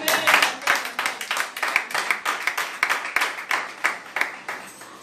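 A church congregation claps in steady rhythm to acclaim the Lord, sharp hand claps repeating about every half second for several seconds, fairly close and with no speech over them.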